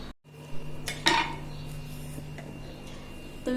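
Steamed dhokla being sliced in a metal tray, with a few sharp metallic clinks and scrapes of a utensil against the tray over a faint steady hum, close and fairly quiet.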